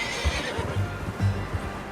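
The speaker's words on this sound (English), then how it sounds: "How's that new horse?" A horse neighs in Red Dead Redemption 2, a loud close whinny with a few snorting bursts, over steady game ambience and faint hoof clip-clops.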